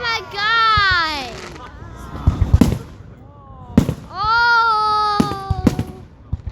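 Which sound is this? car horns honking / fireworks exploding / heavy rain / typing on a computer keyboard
fireworks exploding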